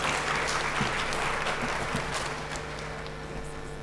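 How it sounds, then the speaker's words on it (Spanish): An audience at a constitutional-law conference applauds a magistrate's introduction, a thick wash of clapping that slowly thins and fades over a steady electrical hum. "Recibimos con un fuerte aplauso a la doctora Isidora Jiménez Castro"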